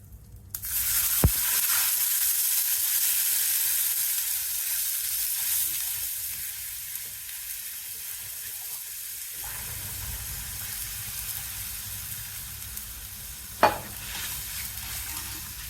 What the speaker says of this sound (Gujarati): ને નાખીને આપણે પાણીનો વઘાર કરવાનો છે